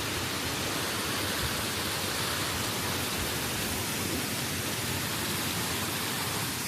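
Steady broadband roar of a waterfall on a winter hike in Pennsylvania, an even, unbroken rush filling the whole clip, fairly close and constant in loudness.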